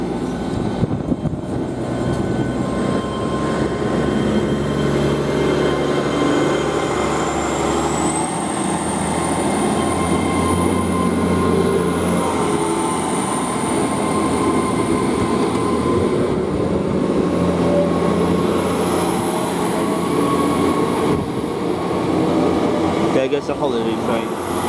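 A GWR Class 800 passenger train, a holiday service, runs through Westbury station with a loud, steady rail roar and a long high whine rising and holding across the pass, with people talking nearby.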